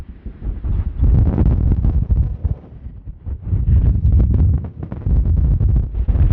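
Strong gusts of wind buffet the microphone on a beach below seagrass-covered dunes, coming in loud rushing surges that ease off briefly between them.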